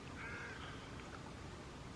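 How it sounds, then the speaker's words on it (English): A crow caws a few times at a distance over a soft, steady wash of water in Alaska. "where you can't hear anything but the water and the birds"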